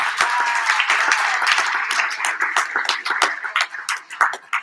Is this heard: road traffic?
no